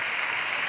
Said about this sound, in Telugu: పెద్దగా చప్పట్లు కొడితే యేసయ్యకు స్తోత్రాలు చెప్దాం